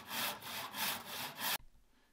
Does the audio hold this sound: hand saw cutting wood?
yes